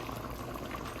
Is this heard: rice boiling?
yes